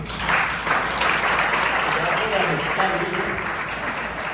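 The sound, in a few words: congregation applauding in church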